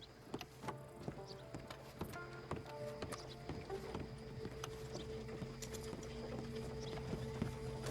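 Horse hooves clip-clop steadily at a walking pace in Red Dead Online, a quiet, even rhythm of soft knocks under faint game ambience.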